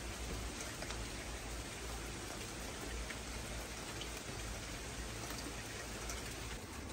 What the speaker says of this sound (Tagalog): It's been raining all day, actually since last night